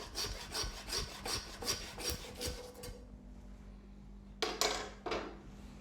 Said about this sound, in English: Then with my saw, just separate it.